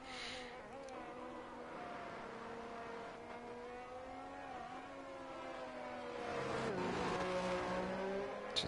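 Race car engine in a Formula One racing game, steadily revving as it pulls out of the pits on the British Grand Prix circuit, with gear-shift pitch changes and a louder surge near the end.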